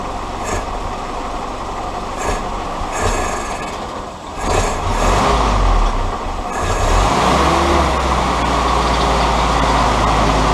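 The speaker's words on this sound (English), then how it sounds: "I'm going to give it a little gas let see what it does" A Willys engine with a head gasket or crack repair is given gas, building from a steady loud running drone into a louder, rougher rev that holds up to the end.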